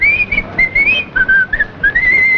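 A man whistles a Scotch tune, a clear, close, melodic whistle of sustained phrases with short breaks, heard alone.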